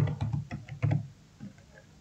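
A few quick keystrokes tap on a computer keyboard while a program name is typed on a Windows PC, light clustered clicks close by, then fading to quiet room tone.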